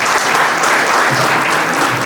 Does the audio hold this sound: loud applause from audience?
yes